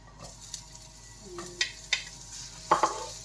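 Garlic and ginger added to a hot pan, with quiet frying under scattered clinks and scrapes of a utensil stirring against the pan.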